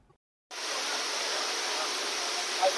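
Heavy monsoon rain pours onto a flooded street in Thane, a steady, dense hissing rush that starts abruptly and continues evenly, fairly loud and unbroken.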